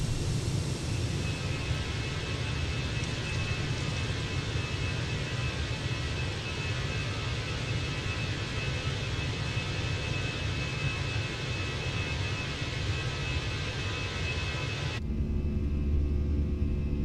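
A Fenix A320 airliner taking off and climbing in Microsoft Flight Simulator, a steady loud engine roar and rumble that holds without break, then drops suddenly near the end.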